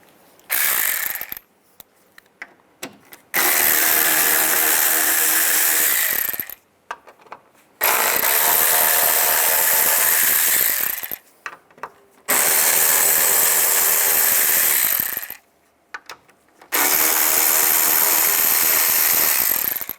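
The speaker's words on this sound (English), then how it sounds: "Take these screws out. There's 4 of them. Use a T20 socket." A ratchet fitted with a T20 socket backs out fog light screws on a 2010-2017 Chevrolet Equinox: four loud, close bursts of rapid clicking, each lasting several seconds and separated by short pauses.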